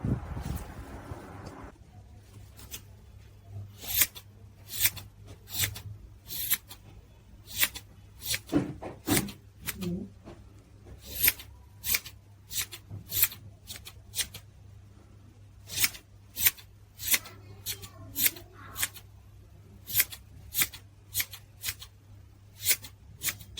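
Scissors trim crocheted yarn on a handmade coaster into a round shape, a long series of crisp, close snips coming in irregular bursts, some quick pairs and some single cuts, over a quiet background.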